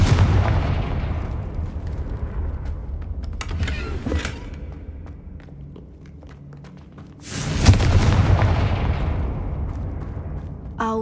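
Confringo fire spell blasting in Hogwarts Legacy, a loud booming explosion that bursts at about seven seconds and rumbles off, following an earlier sharp crack and a steady low game ambience with no speech.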